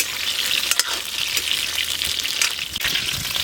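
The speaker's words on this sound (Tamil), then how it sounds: "கத்திரிக்காய் பாருங்கள் அப்படியே எண்ணெயில் வதங்க அப்படியே கலர் சேஞ்ச் ஆகிட்டே இருக்குது." Eggplant pieces fry and sizzle in hot oil for an oil-eggplant kara kuzhambu, with a steady close crackle and a few stirring scrapes and bursts, no voices.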